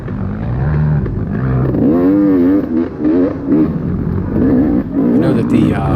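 An XCW dirt bike engine revs hard and close at the Crossroads 2024 Round 5 Ridge Run off-road race, its pitch climbing and dropping with each throttle change in a continuous, loud drone.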